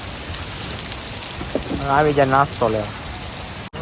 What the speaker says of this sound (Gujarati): જોવો તો ઘડીક કેવો વરસાદ પડે.